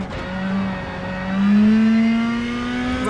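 Rally car engine in WRC 10 on Rally Sweden, revving up from a standing start with rising, sliding pitch sweeps as it accelerates through the gears, loud and close, with no talk.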